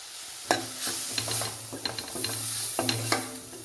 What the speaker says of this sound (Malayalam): ഇനി നമുക്ക് കറിവേപ്പില ഇട്ട് കൊടുക്കാം